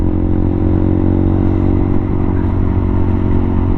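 A motorcycle riding along a road in Cagayan de Oro, its engine droning loud and steady and close throughout, with rumbling low tones and no talk.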